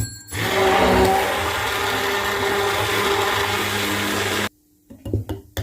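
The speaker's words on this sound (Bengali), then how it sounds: "এবার ব্লেন্ড করে নিচ্ছি" A blender whirs loudly and steadily while blending an energy drink, running for about four seconds before cutting off abruptly, followed by a few brief clatters.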